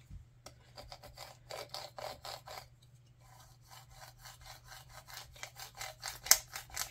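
A scraper tool rubs across a paper planner in quick repeated scratchy strokes, close and faint, over a low steady hum with no talking.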